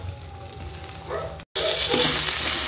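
Chopped tomato and Kashmiri chilli hit hot oil, a soft sizzle that cuts out for a moment, then swells into a louder, brighter hiss as the tomato lands, heard close with no voices.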